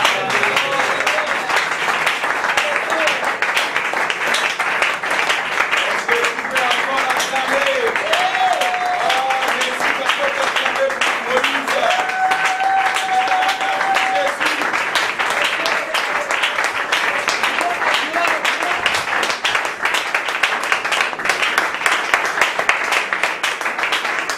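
Sustained applause from an audience at a religious gathering, a dense, even wash of clapping that runs unbroken and loud throughout.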